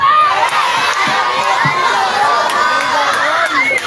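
A large crowd at a political rally in the Philippines shouts and cheers loudly and continuously, many voices overlapping, with sharp whistles and claps.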